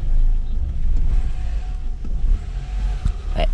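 A car engine close by on the verge of stalling, throbbing with a heavy low rumble that sags and wavers unevenly for a few seconds, no voices over it.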